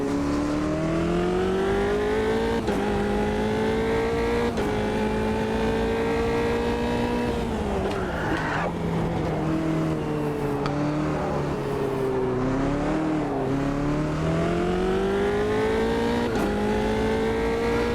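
Race car engine in a racing simulation game, a loud continuous close drone whose pitch rises and falls with gear changes and throttle.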